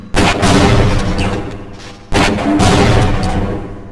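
Two loud, close gunshots from a weapon in Half-Life, each hitting hard and then tailing off into a long rumbling decay, spaced about two seconds apart.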